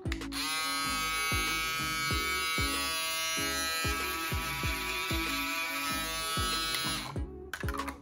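A BaByliss Pro FoilFX02 foil shaver switched on and running, giving a steady, close, loud electric buzz with a fast rattling pulse that cuts off near the end, with no talking.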